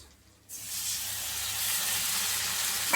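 Chili, ginger and tomato paste dropped into a hot pan, the sizzle bursting in after a quiet half second and then holding as a steady, close frying hiss.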